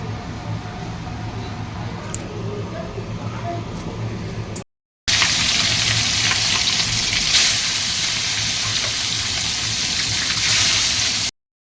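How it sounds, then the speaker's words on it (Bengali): A catla fish head fries in hot oil for a home-cooked Bengali dish, giving a steady, loud, close hiss and sizzle that grows stronger after a short break, with no talking. "এখানে যে তেল গরম হয়ে গেছে, আর এখানে মাছের মাথা, যে কাতলা মাছটা কিনেছিল ওই মাছের মাথাটা"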